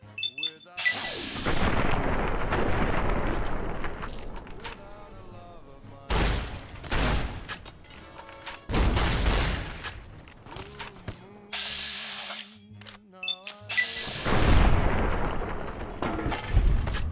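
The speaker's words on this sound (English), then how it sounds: "Who the hell's shooting at me?" Gunfire in Fallout: New Vegas: repeated loud bursts of shots and impacts in several clusters, separated by short pauses, with game sounds and music around them.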